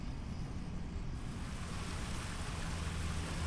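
Dixon Falls waterfall in Fundy National Park rushes with a steady, broad roar of falling water, constant and fairly close, with no voices over it.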